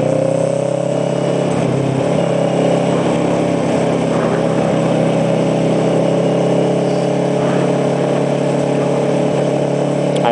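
Engines idle and rumble steadily in backed-up traffic, a big truck close behind a motorcycle, a continuous loud low drone throughout with no speech.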